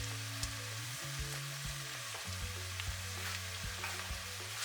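Rice stirred in a hot pan for a vegan vegetable rice dish, with constant close sizzling and frying, soft scraping stirs at irregular intervals, and a steady low hum in the background.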